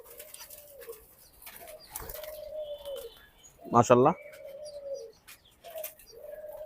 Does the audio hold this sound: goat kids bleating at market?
no